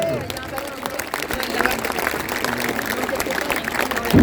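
An outdoor crowd applauds steadily at the 25th international lumberjack competition in Palaiseau, a dense wash of clapping and crowd noise under an announcer's voice, swelling slightly toward the end.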